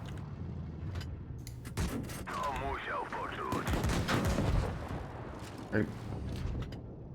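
Tank cannon fire in World of Tanks Blitz, a run of sharp shots spaced through the battle with low rumbling between them, while a voice talks over the action.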